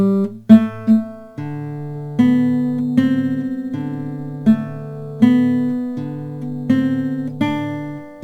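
A plucked string instrument plays a passage of Adrien Le Roy's Branle du Poitou. A close, solo run of ringing notes and small chords moves at a moderate, even pace, with each pluck decaying into the next.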